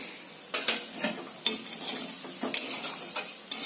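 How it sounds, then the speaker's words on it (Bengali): Curry leaves sizzle in hot oil as masala chira (spiced flattened rice) is stirred continuously, with repeated scraping strokes of a spatula against the pan over a close, steady frying hiss. "এই পর্যায়ে আমরা কারি পাতাগুলো দেবো, দিয়ে কিন্তু সমানে নাড়তে হবে।"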